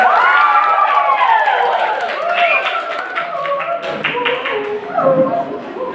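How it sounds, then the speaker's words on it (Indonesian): Clapping from a school audience after a team's turn in a student debate, a brief patter of hands mixed with crowd noise and an overlapping voice. "Sekali lagi mana tepuk tangannya."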